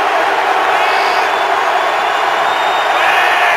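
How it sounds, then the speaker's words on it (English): A raucous stadium crowd at Heinz Field roars steadily throughout an NFL football game between the Pittsburgh Steelers and Baltimore Ravens, a loud, dense wall of cheering with no break. "A raucous crowd at Heinz Field tonight."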